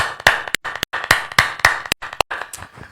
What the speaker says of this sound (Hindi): एक अच्छी ताली के साथ हम परमेश्वर को धन्यवाद देंगे।